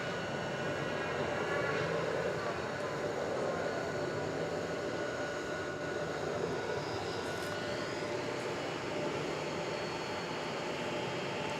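An Airbus A380 airliner rolls across DFW Airport at night, a steady, broadband jet-engine roar with a droning whine holding constant for the full span, moderately distant and unbroken by any voices.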